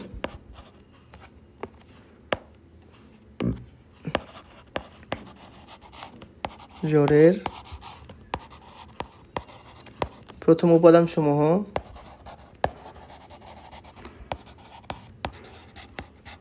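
A pen or chalk writes by hand while a math example is being solved, making scattered short taps and scratches throughout, with a person speaking in between.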